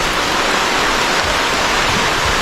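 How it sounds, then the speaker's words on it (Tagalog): Heavy, dense rain pours in a loud, steady wash of noise that never lets up, close by and with no voices. "madulas na yung daanan no, kasi umuulan na"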